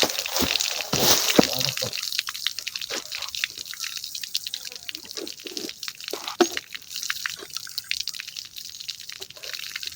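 A mountain stream flows, heard as a soft, faint trickle with scattered drips and small splashes. A brief burst of rushing hiss comes at the start, then the water stays quiet and steady.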